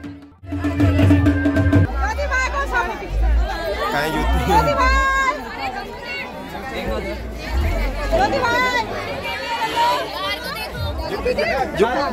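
A crowd at a Kumaoni wedding gathers to bid farewell to the bride, and loud overlapping chatter and babble fill the air close by, with voices talking throughout.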